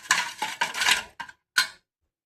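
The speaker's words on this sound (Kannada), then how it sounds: "ಇದನ್ನು ಸರಿಯಾಗಿ ಬೀಟ್ ಮಾಡ್ಕೋಬೇಕು ರೀ" Spoon clattering against a bowl while beating a sugar and oil batter for goli baje, in quick bursts of scraping clinks with short pauses, close and fairly loud, with no voices.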